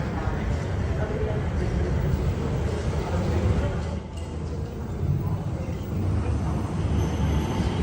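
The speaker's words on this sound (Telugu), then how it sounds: "ఇదిగోండి ట్రైన్స్ వచ్చేసి కంప్లీట్ డ్రైవర్లెస్ ట్రైన్స్" A driverless automatic Skytrain at Singapore airport rumbles along with a steady rolling rail noise and whine, fairly close, with a voice talking over it.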